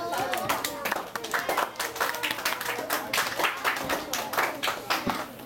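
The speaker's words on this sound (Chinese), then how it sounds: "来，很好，掌声鼓励。" Schoolchildren in a primary-school classroom clap together in encouragement, a brisk scattered round of hand claps with a teacher talking over it.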